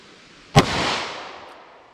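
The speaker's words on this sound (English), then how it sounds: "I'm going to use the Taurus here, just because it is pretty high in recoil." A single sharp, loud gunshot from a Taurus revolver firing a .38 Special hard cast round into wood, followed by a long decaying echo, with no voices.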